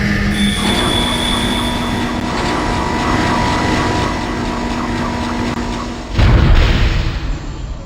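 Tram from the Dead Space (2008) video game rolling in on its rails: a loud, steady mechanical rumble with whining tones, swelling into a heavier rush and clank near the end as it arrives. No speech.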